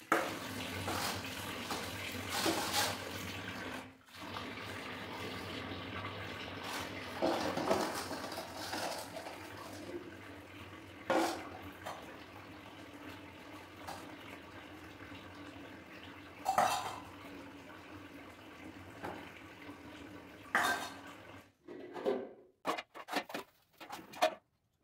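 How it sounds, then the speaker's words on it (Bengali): Brass and other dishes scrubbed and rinsed under a running tap, steady water flow with repeated clinks of plates, pots and cutlery, ending in a flurry of sharp clatters as the tap stops, nearby and without talk. "বাসন ধুয়ে নিই।"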